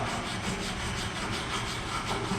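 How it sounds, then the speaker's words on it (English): A wire brush scrubs a GMAW flat padding weld bead with a continuous harsh, gritty rasp, close and steady through the short stretch, with no pauses or talk. "Now once again, take your wire brush."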